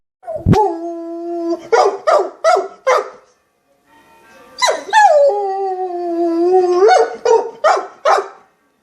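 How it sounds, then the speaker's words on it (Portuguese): A Castro Laboreiro dog barks in short bursts, then lets out a long rising howl that settles into a steady, drawn-out tone before more sharp barks follow. "Seu latido, inclusive, tem uma característica marcante, pois começa com um som grave"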